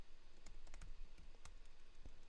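Computer keyboard with stuck keys being typed on during a programming live stream, quiet irregular clicks and taps close by over a low steady hum, with no talking.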